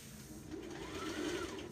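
A sewing machine stitches the facing onto a dress, with a steady, close mechanical whir that runs continuously for under two seconds with no talking.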